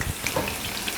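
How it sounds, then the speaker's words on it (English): Chicken fries in a pan with a steady close sizzle and crackle, with no other sounds. "there's still something frying in there"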